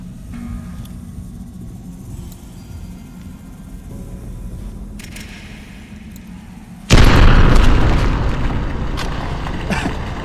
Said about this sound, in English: Let's try grenades this time